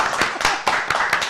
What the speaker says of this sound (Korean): 큰 박수 다시 한번 환영하십시오